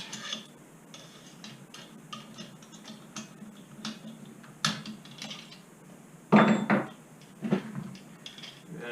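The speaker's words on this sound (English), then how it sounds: "Hit it with a metric Allen wrench." A metric Allen wrench loosens the front muffler bolts on a Husqvarna 440 chainsaw, making close metallic clicks and ticks with a few sharper clanks and a louder rattling knock near the end. No voices.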